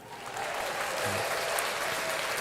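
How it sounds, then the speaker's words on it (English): An audience at a conference talk claps in a steady, dense wash of applause that starts quickly and holds at an even level, with faint voices mixed underneath. "I control my own applause"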